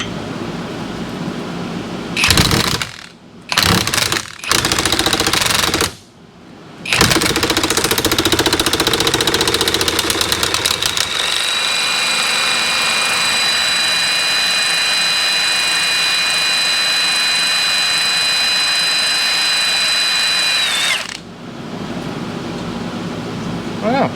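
A half-drive offset impact ratchet from Amazon running on a deep socket in a garage: several short loud bursts, then a long steady high-pitched mechanical whine lasting about ten seconds before it cuts off.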